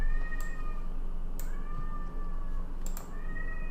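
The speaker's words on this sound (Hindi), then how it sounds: "हमारी बिल्ली की आवाज़ आ रही है" A domestic cat meows three times, each cry a rising-then-falling wail spaced about a second apart, heard indoors over a steady low background hum with no talking.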